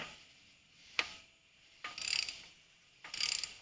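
A ratchet tightens an old bolt during an LS engine swap on a 1979 Camaro. A soft click comes first, then two short bursts of rapid ratcheting clicks, close but fairly quiet, with no talking.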